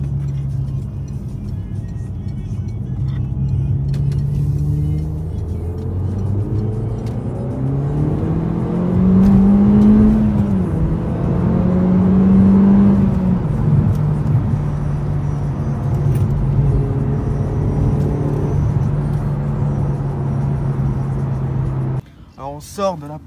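Peugeot RCZ R car driving on the way to a car meet, engine humming and rising in pitch through gear changes, heard from inside the cabin with people talking over it.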